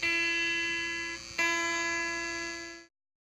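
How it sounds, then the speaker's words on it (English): An electric guitar string played through an amplifier gives a bright, steady buzzing tone that is briefly re-struck midway and then cuts off abruptly, quiet overall and alone. "and when you turn on the amplifier, it'll sound like this."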